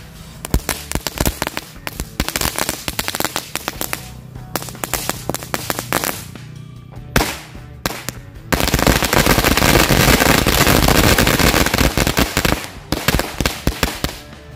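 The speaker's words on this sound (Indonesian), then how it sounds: "yang pertama kita nyalakan 4 gepok mercon korek" Four packs of mercon korek firecrackers go off in rapid chains of sharp cracks, building into a dense, continuous roar of bangs before thinning to scattered pops, loud and nearby.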